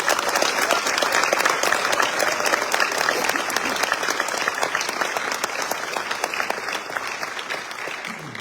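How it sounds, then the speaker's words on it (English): Dense, sustained clapping from parents and guests at a US Army training graduation ceremony, close and even throughout and fading slightly near the end. "Let's give the parents here and at home a round of applause"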